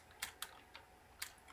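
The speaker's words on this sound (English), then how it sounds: "Now we're cooking with keyboard macros. One button macros." Computer keyboard keys are pressed in a few quick, sharp clicks with uneven spacing, quiet and close, with no speech.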